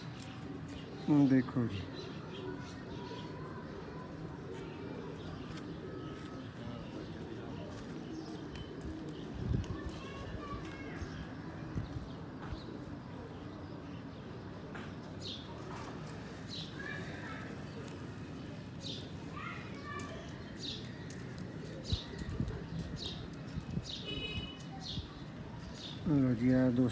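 Pigeons coo on a small rooftop in Sialkot, soft repeated cooing and bird calls in the background while someone talks over them for most of the time.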